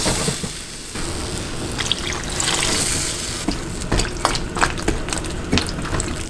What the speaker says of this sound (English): Add enough water to cover the eggplant.